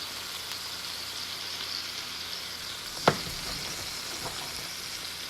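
Mushrooms and onions fry in a pan with a steady, close sizzle. A single sharp clink of a utensil against the pan cuts in midway, and a little stirring follows.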